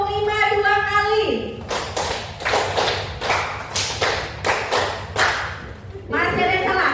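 A group of people clapping a practiced pattern at a school, two bursts of sharp, unison claps in an even rhythm, with a leader's voice before and after.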